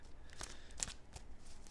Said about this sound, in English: And then we shuffle the deck.